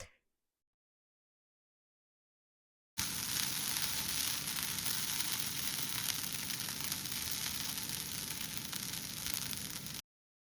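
Sabudana (tapioca pearls) roasting in a pan for khichadi gives a steady, even hiss and soft crackle that starts after a few seconds of silence and runs on at a constant level with no voices.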